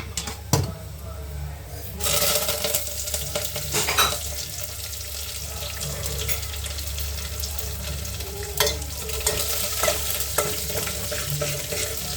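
Tempering spices sizzle and crackle steadily in a hot pan with a little turmeric, with occasional stirring scrapes and clinks close by, under a faint background hum.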